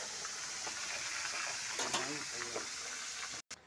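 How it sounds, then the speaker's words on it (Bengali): Pabda fish frying in hot white oil in a kadai, giving a steady broadband sizzle throughout with a brief voice partway through, ending in a short abrupt dropout. "মাছগুলো এক এক করে ভাজা হলো।"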